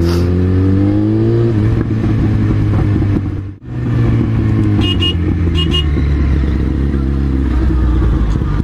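Yamaha FZ1 motorcycle with its catalytic converter removed, engine revving loud and close, pitch rising and falling through several throttle blips with a brief cut near the middle before building again.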